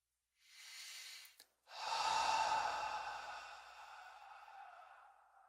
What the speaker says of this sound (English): Letting yourself breathe naturally and effortlessly.